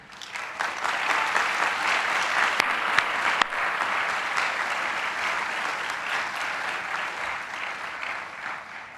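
A large crowd at a business school MBA graduation ceremony applauds the faculty, a broad, steady roar of many hands clapping that swells in and holds evenly, with a few sharper individual claps standing out.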